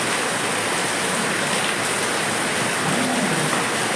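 Heavy rain falls on a road in a steady, close roar of dense hiss that holds unbroken throughout, with no talking.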